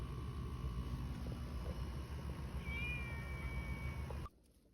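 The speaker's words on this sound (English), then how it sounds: "What about you, Kitten George? What do you got to say?" A kitten gives a thin, high meow partway through over a steady low engine-like hum, faint and brief before the background drops away.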